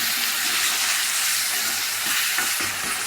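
Tomatoes and potato masala sizzle and sauté steadily in a hot pan, a continuous close frying hiss with faint stirring scrapes and no talk.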